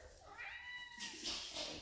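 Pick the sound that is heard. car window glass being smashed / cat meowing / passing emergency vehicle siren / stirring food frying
cat meowing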